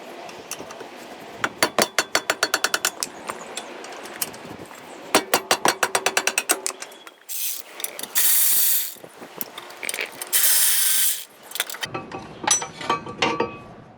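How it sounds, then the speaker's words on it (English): A ratchet clicks in quick bursts while loosening the brake caliper mount bolts on a 2005 Honda Accord, followed by metallic clinks and scraping of parts being handled, close up. "Removing the caliper mount, there's 2 bolts, one here and one here."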